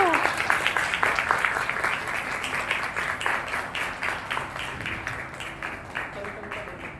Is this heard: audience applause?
yes